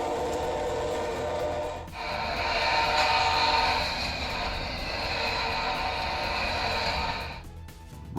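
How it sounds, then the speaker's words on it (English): A CSX freight train rumbles past steadily, with a loud, sustained horn blaring for several seconds before fading back into the rolling rail noise, in Blackwater River State Forest near Brewton, Alabama. "a CSX freight train happened to roll through"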